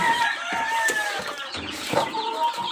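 A mother hen clucks near her chicks in a backyard coop, soft repeated clucks and brief calls with some wing flapping, fairly close and quiet.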